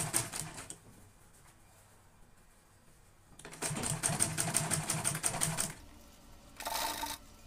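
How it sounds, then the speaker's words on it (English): A sewing machine top stitching a sun hat brim runs in short bursts of rapid, even needle clatter, one long run and a brief second one, close and fairly loud. "So I'll be making this top stitch on my brim to make it relax well."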